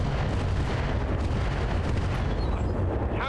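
Heavy mech weapons firing in BattleTech RogueTech, a continuous loud barrage of booming artillery-like blasts and explosions with no talking.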